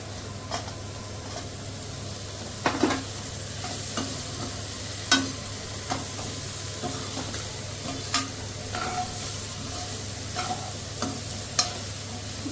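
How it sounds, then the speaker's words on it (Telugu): Fried paneer with green, red and yellow capsicum is stirred in a pan over a low steady sizzle, punctuated by a series of spoon scrapes and knocks against the pan, close by and without talk. "ఇప్పుడు ఫ్రై చేసి పెట్టుకున్న పన్నీర్ వేసుకోవాలి"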